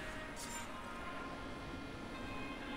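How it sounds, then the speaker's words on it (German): Train rumbling into a station in The Matrix: Path of Neo video game, a steady low rolling drone with metallic hiss, fairly faint and continuous throughout. "Ach, da ist ja schon mein Zug."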